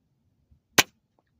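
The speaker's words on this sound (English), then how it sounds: "We'll do a mud puddle shot from here." A Weihrauch air rifle fires a single pellet into a mud puddle, a quiet, short crack with a quick decay, heard alone against near silence.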